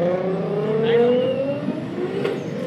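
A Toyota Supra drag car accelerates hard down the strip, its engine note climbing steadily in pitch as it pulls away, loud and continuous with a faint whine layered over the roar.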